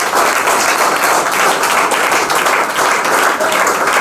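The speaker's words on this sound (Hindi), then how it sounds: "ताली बजाओ जरा।" An audience at an Agniveer interview claps together for about four seconds, a dense, fairly loud burst of applause without talk.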